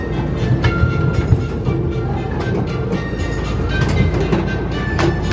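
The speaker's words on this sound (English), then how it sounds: "we thought we'd come back on the train down to Thomasland" Ride-on train at Thomas Land, Drayton Manor, rolling along with a steady rumble and rhythmic clickety-clack of wheels over rail joints, loud and close throughout with faint squeals above.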